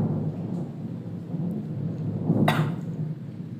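Rumbling thunder rolls through steady rain, a continuous low roar with a sharper crack breaking out near the middle, heard alone without speech.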